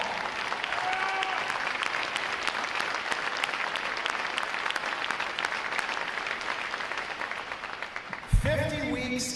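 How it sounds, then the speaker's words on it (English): Sustained applause fills a ceremonial hall at a Navy recruit training graduation, a dense steady clatter of many hands; it cuts off near the end as a voice starts speaking. "Please join me in a round of applause for our parents and our friends and our family, supporters, one and all."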